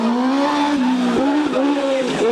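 A BRM1000 Quadzilla racing quad bike, a 143 hp, 220 kg super quad with active aero, screams close by with its engine note dipping and rising between gear changes and throttle lifts. The roar is loud and continuous, with no speech over it.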